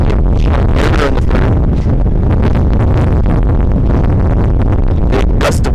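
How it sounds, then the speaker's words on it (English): A big gust of wind sweeps across an outdoor high school baseball game, loud, continuous rushing and buffeting noise on the microphone lasting several seconds. "Big gust of wind comes through."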